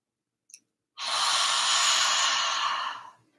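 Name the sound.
deep breath in and exhale like fogging a mirror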